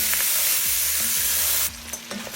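Pancetta and andouille sausage frying in a pan, a loud dense hiss that drops off abruptly partway, leaving a quieter sizzle with a few small pops.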